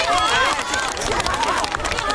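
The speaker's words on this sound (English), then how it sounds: "With the Spring Festival approaching, a New Year market nearby attracted large crowds." A busy outdoor New Year market before the Spring Festival in China, packed with people, gives a loud, continuous babble of many voices mingled with footsteps and bustle.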